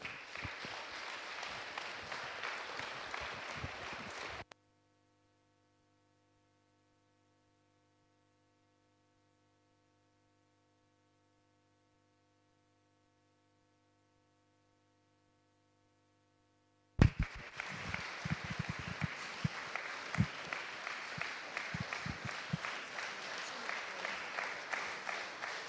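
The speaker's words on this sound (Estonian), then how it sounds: "Aplaus!" Audience applause at a 2015 charity concert in Tõrva breaks out in dense sustained clapping, then cuts to a long silent stretch with only faint steady tones before the clapping resumes just as full.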